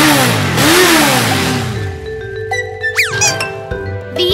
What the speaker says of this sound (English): The motorcycle.